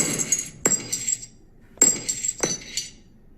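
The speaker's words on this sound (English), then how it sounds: "this was the dog chain, if you can believe that." A dog chain clinks and rattles in a few sharp metallic bursts with quiet gaps between them, close and alone, recorded on the street as material for a boom bap beat.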